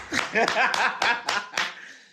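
One person claps about six times in an uneven rhythm, each clap sharp and close, while a little laughter and voice sound underneath during a live stream.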